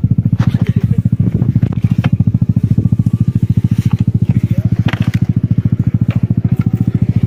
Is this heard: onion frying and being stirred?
no